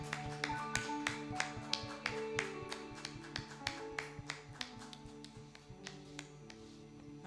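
Church congregation claps in a steady rhythmic beat, sharp evenly spaced claps over sustained musical tones, with no talking.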